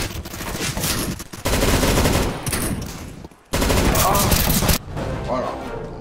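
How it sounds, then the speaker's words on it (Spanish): Gunfire in Counter-Strike: Global Offensive, dense bursts of rapid shots in two loud stretches with a brief lull between, close and harsh. "Veo a uno, lo voy a disparar"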